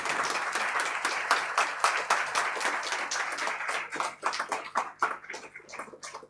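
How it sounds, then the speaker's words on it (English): Audience applause at a student election question time for presidential candidates, a dense patter of clapping that thins into scattered, separate claps toward the end. "Round of applause for the candidates for president."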